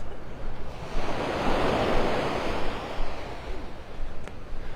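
Small ocean waves wash steadily onto the beach at Delnor-Wiggins in North Naples, Florida. The surf makes a loud, continuous rush that swells and eases, with some wind buffeting the microphone.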